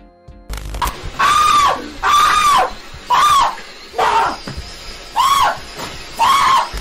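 A YouTuber screams in panic as a toy catches fire, six loud sustained shrieks in a row with short gaps between them, close and unaccompanied by talk.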